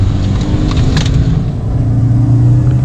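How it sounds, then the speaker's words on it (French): BMW E36 car taken fast through a roundabout, a steady loud engine and road rumble throughout with no speech. "Là on va essayer de prendre le rond-point un peu vite, au pire Nick on perd une roue"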